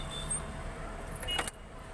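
A car key goes into the ignition and the car switches on. Short metallic key jingles and clicks sit over a low, steady hum, with a brighter scrape and click near the middle.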